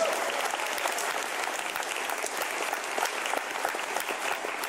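Audience at the Eurofurence 28 opening ceremony breaks into sustained, dense applause, a steady wash of many hands clapping at even loudness throughout with no talk over it.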